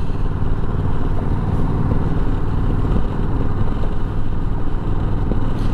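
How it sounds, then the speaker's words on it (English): A Yamaha Majesty 400cc-class scooter on the road, its engine a loud, steady drone that holds close throughout without clear fade, mixed with road and traffic rumble. "Yamaha Majesty. That's a good scoot. It's a 400cc class."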